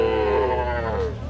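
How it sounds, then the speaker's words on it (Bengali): A young bull calf at a cattle market lets out a single close, drawn-out moo that slides downward in pitch, with crowd noise behind it. "এগুলো সব কিন্তু ষাঁড় বাচ্চা।"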